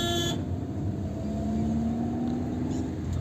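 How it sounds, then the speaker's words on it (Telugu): A car engine under a driving lesson pulls steadily upward in pitch, a continuous near hum rising through the gears as the vehicle gathers speed, with no voices over it. "ఫస్ట్ గేర్ వేసుకున్నా, మూవ్ అవుతుంది బండి చూడొచ్చు"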